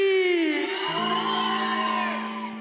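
A church service crowd shouting a long drawn-out cheer together, loud and sustained, fading slightly toward the end.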